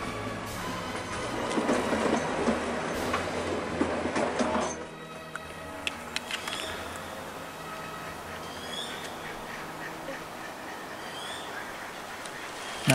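A Lilliputbahn miniature park train in Donaupark, Vienna, rolls along with steady rumbling and clickety-clack of its cars, loud at first and then quieter and farther off, with birds and ducks calling over it.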